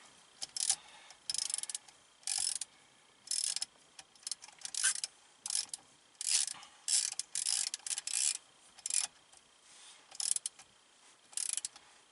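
Ratchet tightening bolts on an aftermarket Grant steering wheel in a dually truck, a series of short, quiet clicking bursts repeating in an irregular rhythm, close up.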